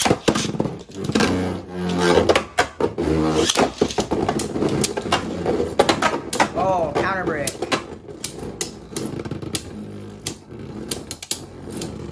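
Beyblade Burst tops Astral Spriggan and Golden Dynamite Belial clash in a stadium in balance mode, giving rapid metallic clacks and a spinning whir, with a person talking over the battle.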